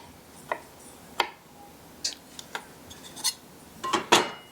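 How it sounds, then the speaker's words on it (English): A knife cuts jalapenos on a board in a series of separate sharp taps and clicks that come more often and louder toward the end, with no talk. "there's my jalapenos. I'm gonna get these cut up"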